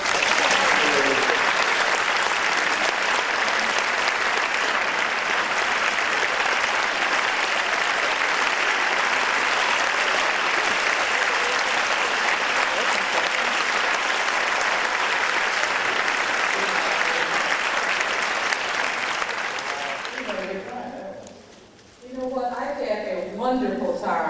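Sustained, dense audience applause at a film festival Q&A fills the room for about twenty seconds, loud and close, then fades out as a voice begins speaking.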